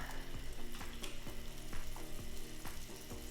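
Butter and olive oil sizzle in a piping-hot pan, a continuous close frying hiss with rapid crackles and small pops throughout and no talking.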